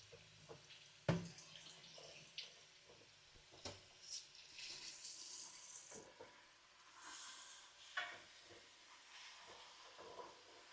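Food being rinsed under a running kitchen tap, a soft steady hiss of water with faint drips and occasional clatters, heard fairly quietly with no talking.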